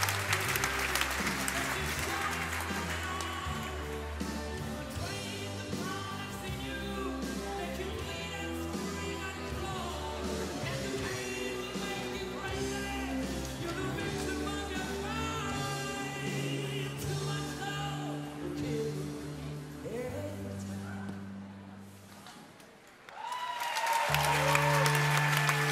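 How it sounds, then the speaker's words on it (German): Spontaneous applause breaks out in a trampoline gymnastics hall after a synchronized double somersault, sustained crowd clapping over background music, fading briefly before swelling again. "Ja, spontaner Applaus in der Halle."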